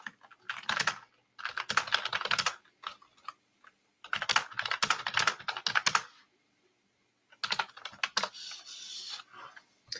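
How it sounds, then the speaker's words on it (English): A computer keyboard is typed on to send a chat message during an online business planning session: four bursts of rapid, close clicking separated by short pauses, with no talking. "So I've just typed a message there in the chat function."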